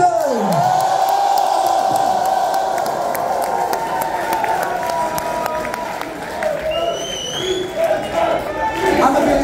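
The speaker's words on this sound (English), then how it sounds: "Just look at this beautiful crowd tonight." A concert crowd cheers and whoops loudly and continuously at a rock show at Islington Assembly Hall in London, a dense roar filling the hall with scattered shouts rising above it.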